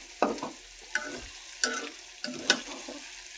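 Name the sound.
potatoes frying in a pan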